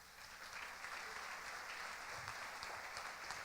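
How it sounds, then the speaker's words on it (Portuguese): A church congregation applauds during a Holy Communion service, steady broadband clapping from many hands filling the room at a moderate level, with faint voices mixed underneath. "Dê um aplauso para Jesus."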